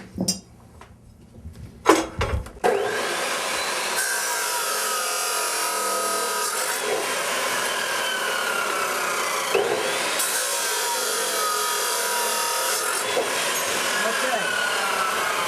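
A saw cuts steel knife blank stock to length for a small 6-inch knife, a steady continuous rasping grind after a few sharp knocks and clinks at the start.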